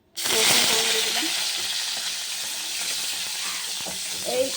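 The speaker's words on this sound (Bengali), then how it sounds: "রসুন ফোড়ন দিয়ে দিলাম।" Garlic and dried chilli hit hot oil and burst into a loud, steady sizzle that holds throughout, with faint clinks of stirring underneath.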